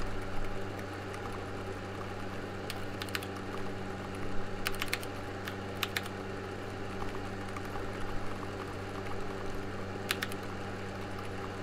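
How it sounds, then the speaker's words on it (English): Typing test on an acrylic-case mechanical keyboard with modified keys, producing faint, steady clacking over a constant low mechanical hum, with a few sharper clicks standing out. "So let's see, typing test."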